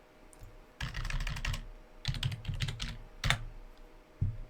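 Keystrokes on a computer keyboard come in three quick bursts of close, clicky typing with brief pauses between them, finishing with a single firmer press of the enter key.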